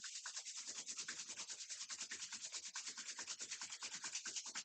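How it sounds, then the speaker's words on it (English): Palms are rubbed briskly together during a yoga session, making a steady, close, rasping friction sound with a quick back-and-forth rhythm throughout, with no talking. "Rub the palms one more time."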